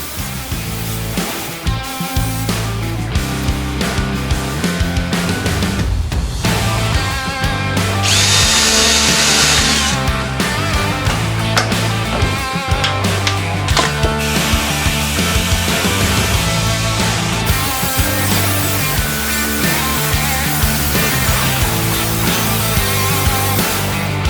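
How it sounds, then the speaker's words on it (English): A power tool cuts steadily through the inner skin of a car bonnet on a Subaru WRX rally build, its loud whirring grind continuing almost unbroken and shifting pitch as it bites into the metal. "The key here is just to slowly edge my way through this inner skin."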